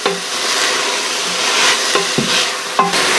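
Food fries in olive oil in a pan, a loud, steady close-up sizzle running throughout with a few brief clatters of stirring.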